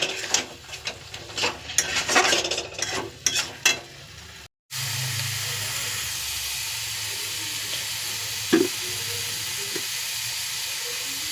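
Chicken leg pieces drop into hot spiced oil with a sudden sizzle, followed by a steady, close frying hiss. Brief stirring clatter comes before the drop, and a spoon scrapes once midway.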